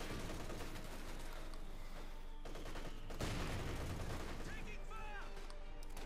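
Machine gun fire from a Maschinengewehr in the video game Company of Heroes 2 rattles in dense bursts over a noisy battlefield, and a brief boom lands midway.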